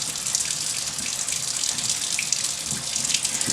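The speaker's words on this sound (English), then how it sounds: "I'm going to go ahead and wash my hands" Tap water runs steadily into a kitchen sink while hands are washed during lard rendering, a continuous close hiss and splash without pauses or speech.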